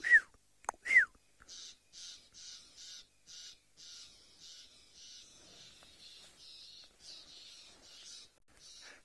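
Two black-backed puffbacks call angrily in a long series of short, rasping, regularly spaced notes, fairly faint against a quiet background, opened by a couple of sharper whistled calls.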